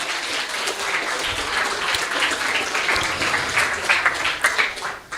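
Steady applause from an audience at a school event at MTS Negeri 3 Banyuwangi, a continuous crackle of many hands clapping that swells slightly toward the end.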